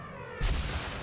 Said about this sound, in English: I shot his grenade